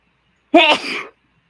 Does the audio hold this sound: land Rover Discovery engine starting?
no